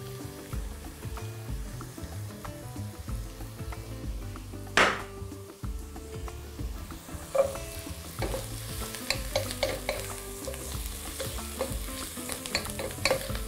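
Minced garlic cloves sizzle in a pan for mushroom soup while being stirred, a continuous crackling fry punctuated by scrapes and clinks of a utensil against the pan, close and clear without talk.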